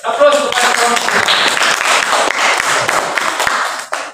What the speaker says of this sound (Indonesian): Mari kita beri aplaus kepada kelompok hijau.